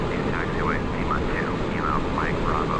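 Boeing 777-300ER in a flight simulator video game, a constant loud broadband engine roar, with a voice talking over it.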